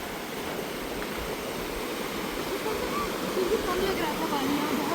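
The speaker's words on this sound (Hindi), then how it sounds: "ऊपर से ऐसा लग रहा था पानी कम है, लेकिन बहुत तेज़ फ्लो है इसमें।" Fast-flowing stream water rushing through a valley, a steady broadband roar of moving water that holds constant and swells slightly louder toward the end, with no talk.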